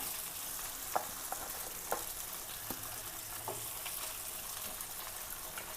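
Marinated fish frying in a pan gives a steady, bright hiss of oil, with faint, periodic taps and scrapes of a utensil.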